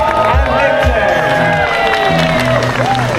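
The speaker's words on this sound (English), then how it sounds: "Give a round of applause for Leon and Victor." Audience at an outdoor magic show during a Chinatown Autumn Moon Festival cheering and clapping, with whoops and excited voices rising over steady crowd noise throughout.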